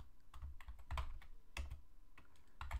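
Code being typed on a computer keyboard, a quick uneven patter of key clicks in short bursts with a couple of heavier thumps, close and without talk.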